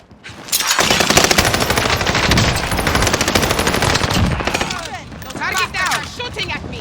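Rapid automatic gunfire rattles in the Call of Duty Warzone video game, a long dense burst of shots followed by scattered firing, with voices talking over it.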